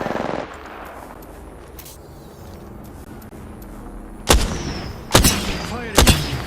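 Apex Legends gunfire: a brief rattle at the start, then three loud, sharp shots spaced about a second apart after a lull, with no talking.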